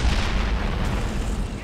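Explosions and heavy gunfire from the World War II shooter Brothers in Arms: Hell's Highway, heard as a dense, continuous rumbling roar with muffled bursts that lack punch, steady and loud throughout.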